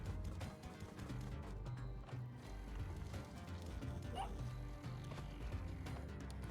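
Dog yips and bow-wow barks from a Spelunky 2 game dog, several short calls sounding over a steady, busy bed of game music and effects, with no talking.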